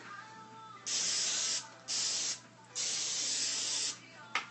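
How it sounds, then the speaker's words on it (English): Three long hissing bursts of Pam aerosol cooking spray, close and loud, with short pauses between them, then a brief final puff. "going to spray it with Pam."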